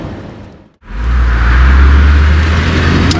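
A 1962 Ford Thunderbird Sports Roadster drives off after a brief pause, and its engine swells into a loud, steady low rumble mixed with road noise, close up and without voices.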